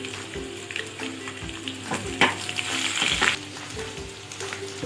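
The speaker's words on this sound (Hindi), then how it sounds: "इसको हम पिंक होने तक थोड़ा सा भूनेंगे" Chopped onions frying in a pan with cashews and red chilli for butter paneer masala, a dense continuous sizzle with stirring scrapes and occasional louder crackling bursts.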